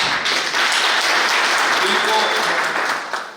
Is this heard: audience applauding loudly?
yes